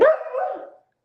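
A single beagle bark, close and fairly loud, that trails off into a short whining tail before silence.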